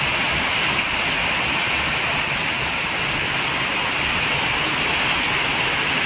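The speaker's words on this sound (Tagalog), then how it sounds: "Pero malakas yung ulan, alauna ng hapon." Heavy August afternoon rain pours down steadily, a dense, constant roar of falling water with no breaks and no voices.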